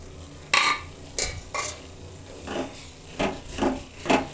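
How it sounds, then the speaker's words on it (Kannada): Dry coconut scraped and tipped into a pan for roasting makes a series of soft dry rasping and scuffing strokes, about seven short brushes spaced irregularly and heard close and quiet. "ಫ್ರೆಂಡ್ಸ್ ಇವಾಗ ಕಾಯಿ ಹಾಕ್ತಾ ಇದ್ದೀನಿ ಒಣಕಾಯಿ"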